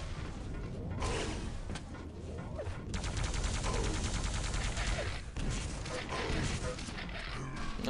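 Rocket launcher fire in a competitive first-person shooter match, dense bursts of explosive blasts and rapid gunfire clattering throughout, loud and close, with commentators talking over the action.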